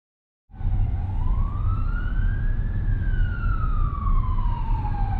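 An emergency vehicle siren wails loudly in traffic, rising and falling in pitch as it passes close by, over steady road and engine noise from a car.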